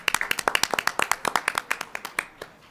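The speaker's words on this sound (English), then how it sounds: "Give him another round of applause." A small group clapping at a school district governing board meeting, with distinct, sharp, fairly close hand claps in a quick uneven rhythm that thin out and stop near the end.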